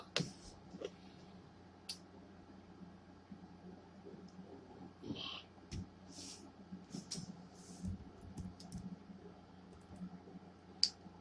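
Computer keyboard and mouse button clicks while looking something up online, sparse quiet taps and clicks scattered over low background hum, with a few sharper clicks standing out.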